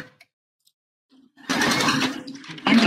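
A sewing machine straight-stitching a quarter-inch seam around a bra cup, quiet at first, then a close whirring run of stitching in two bursts.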